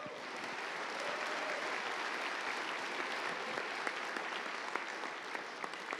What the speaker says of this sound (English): Let's get a round of applause there.